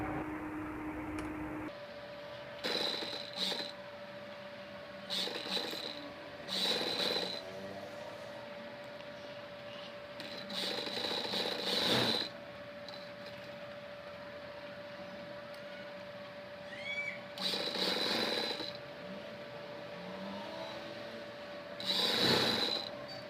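A sewing machine stitches sleeves onto a child's umbrella-cut frock in short bursts of a few seconds each, separated by pauses, over a steady background hum, close and fairly quiet, with no talk.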